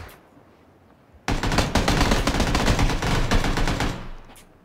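A sustained burst of rapid automatic gunfire in the PUBG battle royale game, starting abruptly after near quiet and running loud and dense for about three seconds before cutting off.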